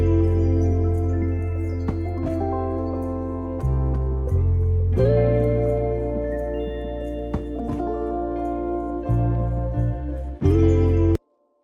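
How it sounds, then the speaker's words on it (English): Guitar chords for a hip-hop beat loop ring out in sustained, effect-washed strums with echoing delay, changing every second or so before stopping abruptly. "So next, I just used my guitar to accentuate some of the chords."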